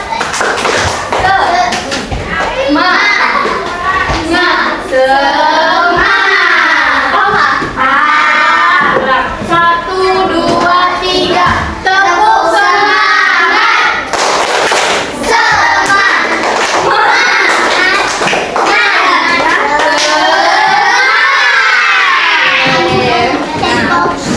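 Children in a primary maths classroom perform a rhythmic tepuk semangat clapping chant, with sharp patterned claps and taps mixed with loud chanted young voices in a lively, repeating beat.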